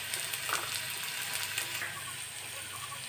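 Chira polao (flattened rice) frying in a pan with turmeric and salt over low heat, giving a steady, soft sizzle with faint stirring scrapes throughout, no talking.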